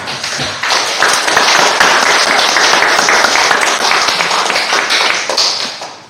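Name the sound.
applause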